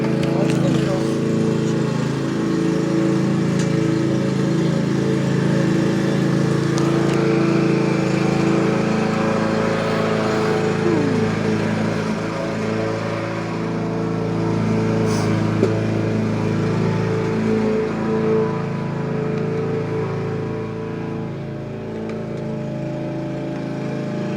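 Electric clippers shave a dog's fur during a home grooming session, a steady close motor buzz running unbroken for the whole stretch while people talk over it.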